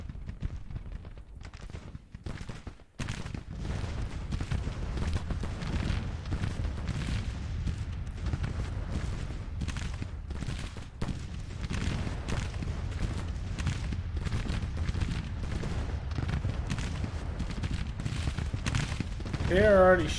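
Cannons firing in a Civil War video game battle at Corinth, a steady rumble of booming volleys and musketry rolling on continuously at a distance, with a low dense roar underneath and talk over it.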